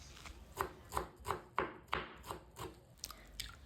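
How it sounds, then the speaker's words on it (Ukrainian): A knife finely chops a bunch of parsley on a cutting board, about ten even, close taps in a quick rhythm, fairly quiet. "Беру пучок петрушки 30 г та нарізаю дрібненько."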